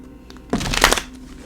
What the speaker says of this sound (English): I'm sorry if the shuffling is a little too loud for anyone wearing headphones